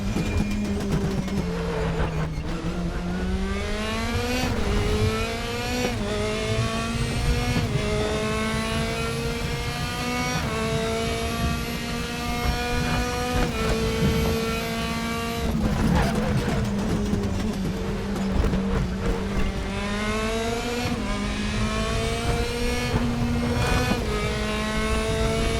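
A race car engine in RaceRoom Racing Experience drones steadily in the foreground, its pitch rising and dipping as the revs fluctuate over bumps for about twenty-five seconds, with occasional gear shifts.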